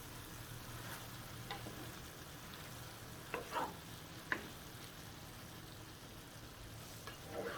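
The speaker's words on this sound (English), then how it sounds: "I'm going to mix this up before I start putting my potato and the rest of my ingredients" Tomato mixture being stirred in a frying pan for Mexican pepper steak, a soft low sizzle running throughout with a few scattered utensil scrapes and taps, quiet and close.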